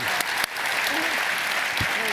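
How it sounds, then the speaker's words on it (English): A crowd claps steadily in a dense, continuous patter of applause, with a voice heard briefly over it. "please, a round of applause for our group"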